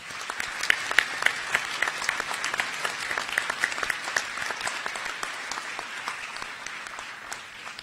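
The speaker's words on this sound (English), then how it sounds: "So let's give them a round of applause." At a Monash University Malaysia graduation ceremony, an audience applauds with a dense, sustained patter of many hands clapping, sharp individual claps standing out near the front, continuing steadily without speech.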